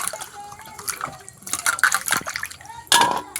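Pieces of lota fish being washed by hand in water, with splashing, sloshing and dripping in close, irregular bursts.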